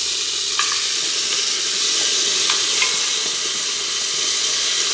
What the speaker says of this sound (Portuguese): Vou colocar o frango na panela.